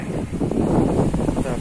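Steady, gusty wind rumbling and buffeting close against the microphone on Maryam Island by the Sharjah lagoon, filling the whole moment with a low, rough roar.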